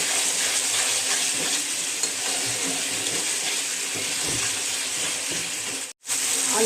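Already-fried potatoes are stirred into a sizzling ginger-garlic spice paste with whole spices, a continuous close hiss and scraping that cuts out abruptly near the end.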